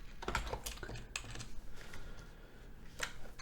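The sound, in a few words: typing on a computer keyboard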